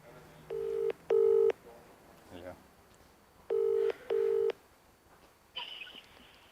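Telephone keypad tones while dialing a friend: two pairs of steady, clean beeps, each pair close together with a pause between, over a quiet background, ending with a brief higher tone.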